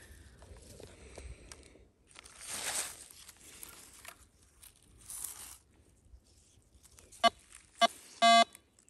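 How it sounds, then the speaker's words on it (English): A metal detector beeps while treasure hunting on chateau grounds, sharp electronic tones sounding near the end after quiet rustling and brushing in the grass, with two short bursts close together. "it's beeping"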